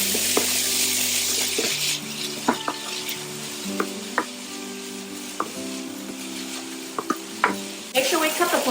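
Ground beef and finely diced potato sizzle steadily in a pan for a beef turnover filling, with a spatula scraping and tapping against the pan at irregular intervals.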